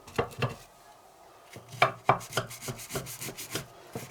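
A knife cuts through a tray of pistachio baklava, with a few close scraping and tapping cuts, a short pause, then a quicker cluster of crisp slices against the pan. No one speaks.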